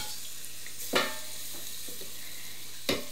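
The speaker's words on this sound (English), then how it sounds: "You can hear it sizzling because it's been preheated." Chicken wings sizzling softly and continuously in a preheated air fryer, with two sharp clatters of the food or basket being handled, close by and without talk.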